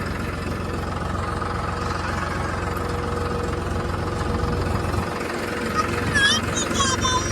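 A tractor engine runs steadily at a farm field, a continuous low rumbling drone with knocking texture, fairly close and unchanging throughout, with a voice briefly heard near the end.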